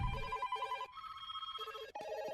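A telephone rings with repeated warbling electronic bursts, a steady trilling ring with brief gaps, fairly faint and heard alone.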